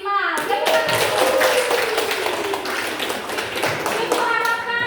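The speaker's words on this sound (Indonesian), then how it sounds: "Tepuk tangan dulu untuk kita semua." Students clap together in a classroom, a dense run of rapid claps lasting throughout, with children's voices calling out and chattering over the applause.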